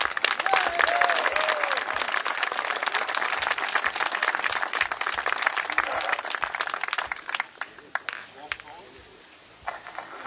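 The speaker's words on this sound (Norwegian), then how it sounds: "Så en stor applaus for Signe og Eli og de andre som" An audience at a Norwegian championship award ceremony claps loudly and steadily for several seconds, then the applause thins out and fades toward the end.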